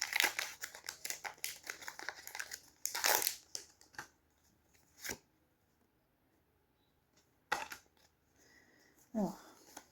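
Crinkling and crushing of plastic wrapping as Halloween decoration packages are torn open, a flurry of close, loud rustles followed by sparser crackles with quiet gaps between them.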